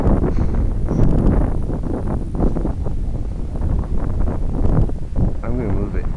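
Strong wind buffets the microphone outdoors in uneven gusts, loud rumbling blasts rising and falling throughout, with someone talking over it.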